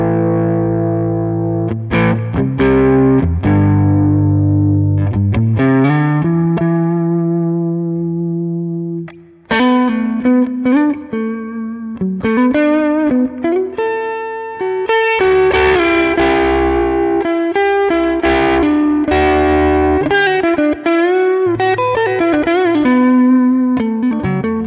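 Electric guitar through a low-gain amp and a pedal, with a mildly overdriven, effected tone, plays chords and melodic runs continuously, full and fairly loud, with a brief pause partway through.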